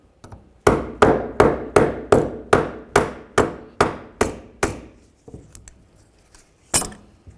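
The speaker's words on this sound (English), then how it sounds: "Now, while I'm holding this, I'll peen this over." Hammer peening the fitting of a power steering pressure hose on a 2003-2011 Mercury Grand Marquis: about eleven sharp, ringing metal blows in a steady quick rhythm, then two more spaced strikes after a pause, close and loud.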